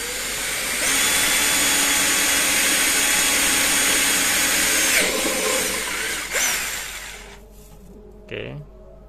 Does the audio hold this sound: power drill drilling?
yes